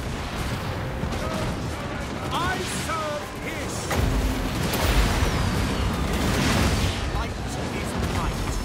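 Gunfire and explosions from a battle in the Total War Warhammer 2 video game form a dense, continuous din, with heavier impacts partway through and faint whistling streaks above the roar.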